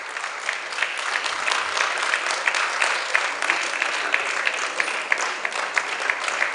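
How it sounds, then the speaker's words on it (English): Sustained round of applause from a lecture audience at an annual management lecture, an even wash of many clapping hands with sharp individual claps standing out throughout. "Please give her a round of applause."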